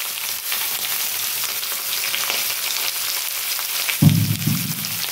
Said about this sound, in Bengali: বন্ধুরা কাসকি শুটকিটা এখন আমি ভেজে নেব, তা তেলের মধ্যে দিয়ে দিলাম।